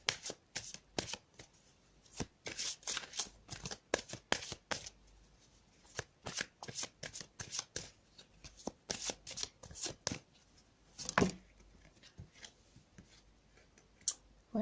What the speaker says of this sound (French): maintenant je vais venir tirer une carte de l'oracle de Marie